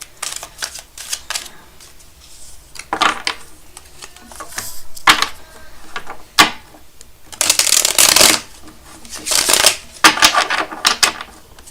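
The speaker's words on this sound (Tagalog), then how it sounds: "balasahin muna po natin" A deck of reading cards is shuffled by hand in repeated bursts of riffling and snapping, loud and close, with brief pauses between the shuffles and no talk.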